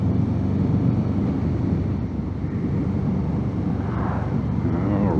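Steady wind roar and low engine drone from a 1000cc twin motorcycle on the road, with a brief rising whine near the end and no talking.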